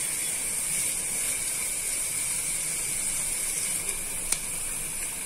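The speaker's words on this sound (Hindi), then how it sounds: "प्याज को अच्छे से सॉफ्ट होने तक पका लेंगे" Chopped onions sizzle in a hot pan, cooking until soft for a green peas chaat, giving a steady even hiss that holds throughout with a faint click near the end.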